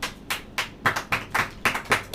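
A church congregation claps in a steady rhythm, about eight distinct claps, moderately loud and close, with no speech over them.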